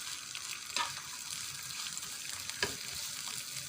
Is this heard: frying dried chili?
yes